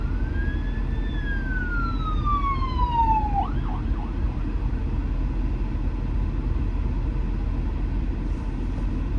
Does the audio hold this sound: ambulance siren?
yes